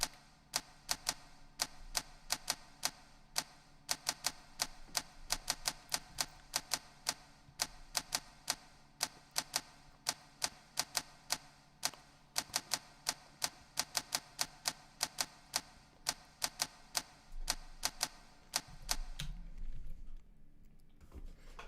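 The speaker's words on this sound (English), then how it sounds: "I just took a sample of a typewriter hitting one note, and then I just played it a bunch of times" A single sampled typewriter keystroke repeated over and over in an erratic rhythmic pattern, crisp sharp clacks at moderate volume that stop near the end, leaving low room noise.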